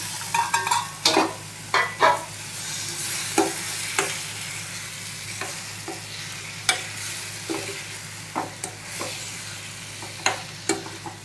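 Bottle gourd pieces frying in a pan for a traditional South Indian curry, with a steady low sizzle under repeated sharp scrapes and knocks of a spoon stirring at an irregular pace, close and clear.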